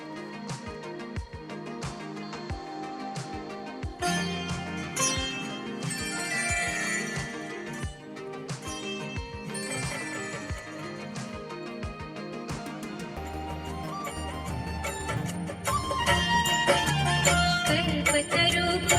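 Music plays from a CD through Sony speakers inside an Alto K10 car: steady beat, melodic instruments and a recorded singing voice, at moderate level throughout.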